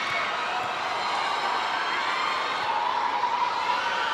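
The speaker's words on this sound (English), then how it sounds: "by the roar of the crowd, you can tell it's Valdez getting ready to serve" A volleyball arena crowd roars at a PVL All-Filipino semi-final match before a serve, a steady dense wash of cheering and shouting that swells slightly toward the end.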